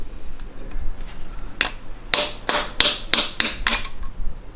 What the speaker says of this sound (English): I'll take a hammer and chisel to the block side rather than the turbo side